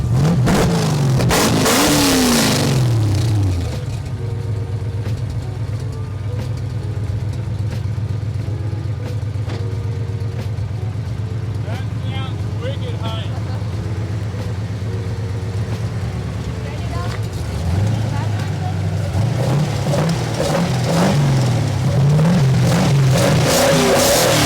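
A Nissan S14 with an SR20 engine fitted with individual throttle bodies cranks over and fires, then idles loudly and is revved in sharp rising bursts, with a steady idle in the middle stretch and more revving at the end; people talk over it.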